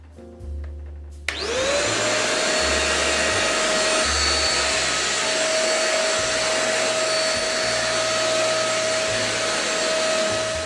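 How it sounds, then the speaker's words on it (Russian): A cyclonic vacuum cleaner switches on after a brief pause, then runs with a steady, loud whine and airy rush that stays constant for about nine seconds, close by with no talk. "Циклонная фильтрация пылесоса улавливает всю грязь и предотвращает вторичное загрязнение воздуха."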